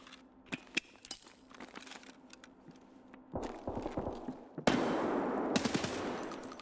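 Gunfire in the video game Escape From Tarkov: scattered sharp shots and clicks at first, building into rapid bursts and then a dense, loud, sustained stretch of automatic fire, with no voices.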